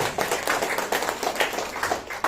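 A crowd claps steadily for a couple of seconds, dense and even, with no voices standing out.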